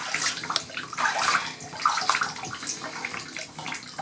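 Tap water runs into a container to soak outdoor plants being brought inside, a splashing, gurgling pour that rises and falls in loudness with no talking.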